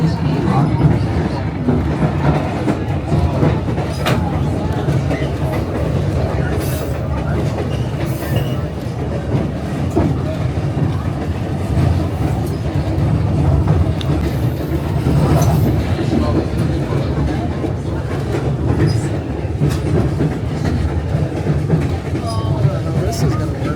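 A train rolls along the tracks near Skagway with a steady, close rumble and rhythmic wheel clatter that carries on without a break, while people talk over it.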